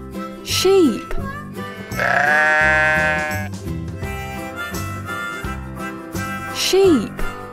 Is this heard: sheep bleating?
yes